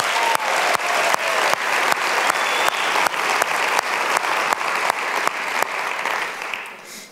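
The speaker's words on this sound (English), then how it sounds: "Let's give them applause" Loud, continuous crowd applause at the bushCONNECT 2018 closing session, a dense wash of clapping with regular sharp accents, fading out in the last second.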